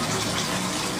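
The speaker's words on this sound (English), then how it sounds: "You gotta let me get the water ready for you first, before you can take a bath." Tap water gushing to fill a dog's bath, a dense, steady rushing pour close by with no pauses and no voices.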